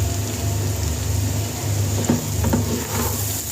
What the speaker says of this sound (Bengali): অ্যাড করে দিয়ে আমি একটু ভালো করে ভেজে নেব।